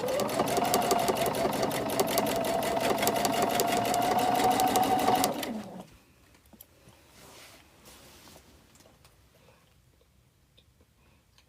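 A quilting sewing machine runs fast with a rapid, steady mechanical chatter for about five seconds, then stops, leaving quiet handling noises and scattered light clicks as the fabric is pivoted.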